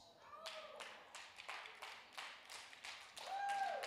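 A church congregation applauding during a live sermon, with sparse separate claps in a loose, uneven rhythm, faint and a little distant, ending with a short voice.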